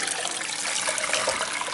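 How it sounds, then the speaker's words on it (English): Chicken broth pours steadily into a big pot on the stove as a continuous close splashing stream with no pause. "I'm going to pour my chicken broth in here"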